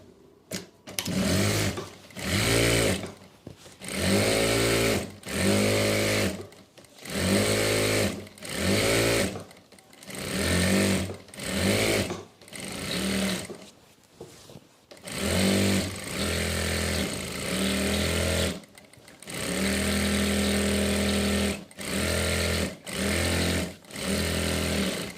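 A sewing machine stitches a salwar seam in repeated short runs separated by pauses, ending in one longer steady burst. The motor whirs loudly and close, with no talking.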